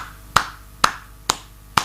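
Four sharp hand claps ring out at an even, unhurried pace, each crisp and close with a short decay, against a faint low background hum.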